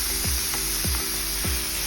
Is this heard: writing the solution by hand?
no